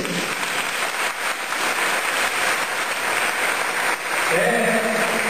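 A church congregation applauds during a priest's evening homily on the eighth night of a series, a loud, dense wash of clapping that holds steady before brightening slightly at the end as a voice begins.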